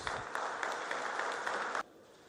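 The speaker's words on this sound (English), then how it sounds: "I think the Northern region deserves an applause." Townhall meeting audience in the Northern region applauds in a steady, moderately loud burst of many hands for about two seconds, then cuts off abruptly into quiet room tone.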